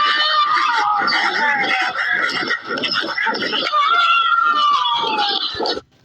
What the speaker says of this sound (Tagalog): nakakatakot yung may sumisigaw na parang babae na parang ang creepy ng boses niya